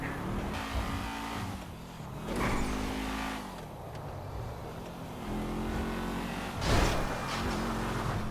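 A car engine in GTA Online revs and roars steadily throughout, with surging acceleration, passing whooshes and a sharper burst near the end, loud and without talk.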